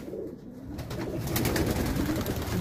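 Meat pigeons in a breeding room coo continuously, a soft low rolling chorus of several birds close by with no talk.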